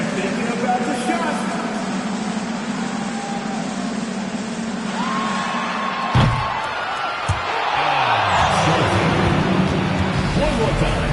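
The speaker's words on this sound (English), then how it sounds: "One more time, a round of applause." Crowd noise from an NBA 2K basketball video game, a steady arena roar of fans that swells into louder cheering and applause in the second half, with a couple of short thuds midway.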